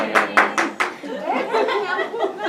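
A church congregation during a sermon gives a few scattered, close hand claps, then breaks into soft laughter and murmured chatter.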